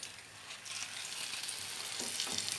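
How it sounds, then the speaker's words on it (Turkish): Quiet, steady sizzling of gözleme flatbread frying in a pan as it is flipped, a soft continuous hiss with a few faint scraping movements. "Kızaran gözlememizi çeviriyoruz."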